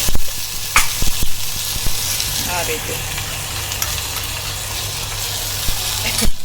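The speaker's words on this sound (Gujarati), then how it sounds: "નાખી અને સમારેલા કાંદા ટમેટા લસણનો વઘાર કરીશું." Chopped onion, tomato and garlic sizzle loudly in hot oil in a pan, a dense steady hiss with a few clatters of stirring, close up, and a voice speaks briefly over it.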